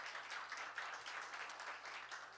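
Congregation applauding during a Sunday church service in Incheon, with a steady, fairly faint wash of clapping throughout and no voices over it.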